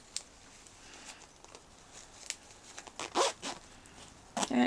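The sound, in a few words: zipper being sewn into fabric and tested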